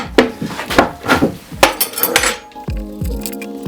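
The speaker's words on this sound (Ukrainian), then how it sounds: "Нарешті я використаю цей великий ключ." A large metal wrench clanks and clinks against the parts of a Pro Craft electric nibbler being disassembled, with a series of sharp, close metallic knocks followed by ringing taps.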